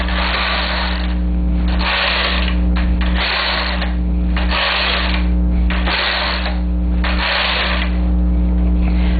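A knitting machine carriage knits rows, each pass a loud, continuous mechanical rattle and ratchet. Brief pauses separate the passes, with a steady hum underneath.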